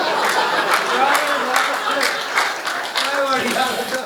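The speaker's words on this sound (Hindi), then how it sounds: "ये भाई साहब तालियां बजाने वाली बात नहीं थी" An audience at a Hindi comedy poetry gathering claps, a dense steady patter of many hands with crowd murmur and chatter mixed in, sustained throughout at a moderate level.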